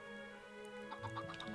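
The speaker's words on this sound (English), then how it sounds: "let's hatch a chicken here" Hatching chicken in Minecraft, a few short, faint clucks in quick succession near the end over a steady tonal background hum.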